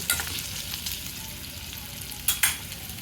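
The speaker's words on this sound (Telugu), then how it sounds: "ఇవి కొంచెం దోరగా వేగితే బాగుంటాయండి" Soaked, drained ingredients fry in oil for poha upma, a close steady sizzle with a couple of sharp spatula scrapes and stirs.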